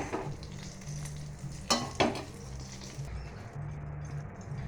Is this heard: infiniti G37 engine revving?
no